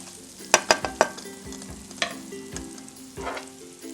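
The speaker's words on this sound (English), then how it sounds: "In the same pot that we fried the tofu in, we're going to go in with our garlic and ginger." Garlic and ginger hit hot, tofu-seasoned oil in a pot, giving three sharp spattering pops at the start, then a softer, steady sizzle broken by occasional scraping stirs.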